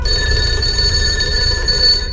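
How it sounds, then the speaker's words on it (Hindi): Telephone ringing with a steady electronic trill over a low rumble, continuous throughout and fairly loud. "तभी दोबारा फोन बजता है।"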